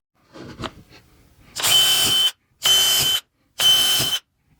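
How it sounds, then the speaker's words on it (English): A power drill boring pilot holes through wood for a candy cane stocking holder, heard as three loud, steady bursts of about half a second each with short gaps between them, following faint handling noise at the start. "I'm going to go ahead and drill some holes in this. These are going to be some pilot holes"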